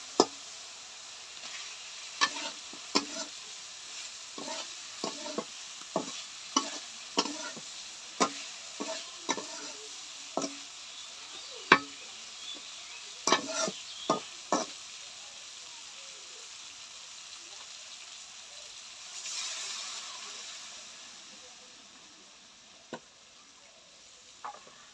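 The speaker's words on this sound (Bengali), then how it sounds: "তো ডিমগুলো দিয়ে আবার একটু নেড়েচেড়ে ভালো করে কষিয়ে নিচ্ছি।" Eggs are turned in frying spices in a pan on a clay stove, with sharp scattered clicks of a spatula against metal over a low, steady sizzle, close but fairly quiet, followed by a brief hissy swell near the end.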